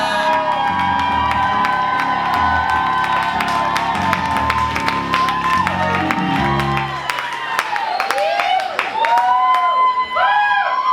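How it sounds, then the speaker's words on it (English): Live audience at a queer poetry night applauds and cheers as a poet walks up to the stage, steady loud clapping with whoops, and a voice comes in over the crowd near the end. "Give a large round of applause to KB as they make their way up."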